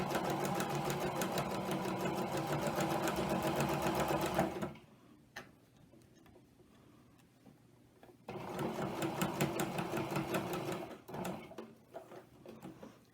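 A sewing machine stitching a quilted coaster runs in two bursts of rapid rhythmic mechanical clatter, separated by a few seconds of quiet with faint handling noises.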